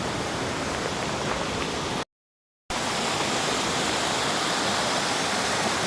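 Tinugtog Falls waterfall in Mayoyao, Ifugao, roaring as a steady, loud, close wash of rushing water, broken by one brief cut to silence partway through.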